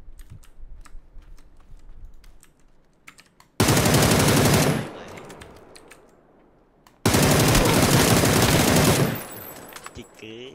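Two long, loud bursts of automatic gunfire from PUBG, each lasting about a second and a half, break in abruptly over quieter game ambience, with faint clicking between them.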